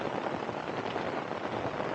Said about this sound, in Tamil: கிட்டத்தட்ட இந்த மழை 24 மணி நேரத்துக்கு மேலே வந்து பார்த்திங்கன்னா தொடர்ந்துக்கிட்டே இருக்குது